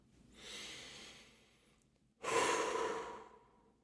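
A slow, deep breath close to the microphone: a long airy inhale, a short pause, then a longer, fuller exhale, with nothing else heard.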